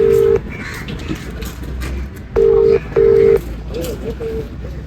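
A phone call's ringback tone sounds in three steady electronic beeps, the first brief and the last two longer, with people talking quietly between them.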